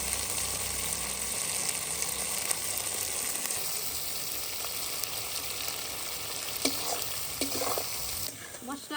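Spicy hand-ground masala is stir-fried in a pan for a village-style chicken curry, giving a dense, steady sizzle with scraping stirs and a few louder spatula knocks.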